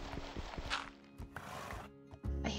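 Horse hooves clop along in Minecraft, a few quick close hoof thuds with a brief whinny-like tone, short and fairly faint.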